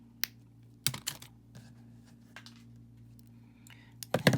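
Pliers snipping excess wire off a wire-wrapped earring, a few sharp close clicks and snaps with small handling noises between, quiet background otherwise.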